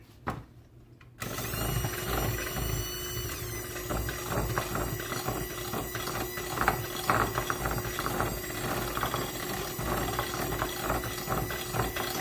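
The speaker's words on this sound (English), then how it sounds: "Technically, this is a KitchenAid too. It's a little hand mixer." A KitchenAid electric hand mixer switches on and whirs steadily, a close, continuous motorized buzz with a faint rattling texture that holds for the rest of the stretch.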